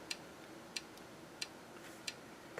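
Ticking from a Snap Circuits whistle chip, set up to imitate a leaky faucet: faint, close, sharp clicks spaced about two-thirds of a second apart, five in all, over a quiet hiss with no talking.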